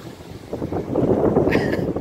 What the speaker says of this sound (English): the waves and the current